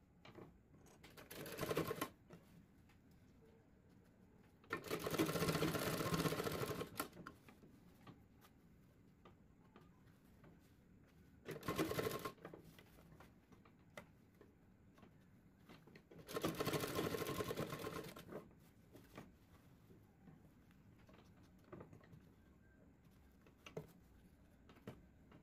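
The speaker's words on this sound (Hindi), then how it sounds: "फोल्ड करके यहाँ पाइपिंग के बराबर सिलाई लगाएंगे" A sewing machine stitches piping along a folded strip on a blouse back neck, running in four bursts of rapid, even clatter, two short and two longer, separated by quiet pauses.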